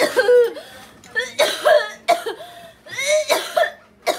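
Repeated coughing fits from a woman during a home exorcism, harsh bursts in uneven clusters close to the mic, with agitated voices around them.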